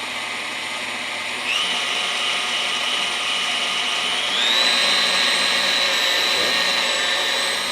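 An electric mixer whips cocoa cream to stiff peaks for a chocolate truffle cake, its steady motor whine holding close and loud, then stepping up in pitch twice as the speed increases, with no talking.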